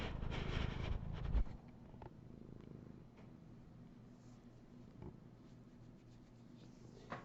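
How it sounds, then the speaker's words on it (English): A cat purrs close by, a soft, steady low rumbling that runs throughout after a brief rustle at the start. "Can you hear the cat purr?"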